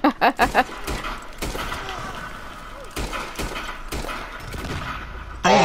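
Video game gunfire cracks out in several sharp bursts, a quick cluster at the start and more shots spread through the clip, with a person talking and laughing over the shooting.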